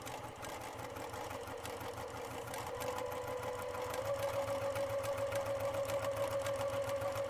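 A sewing machine stitches quilt pieces with a steady, fast mechanical hum and rhythmic clatter up close. It grows slightly louder partway through, and a thin whine comes in near the end.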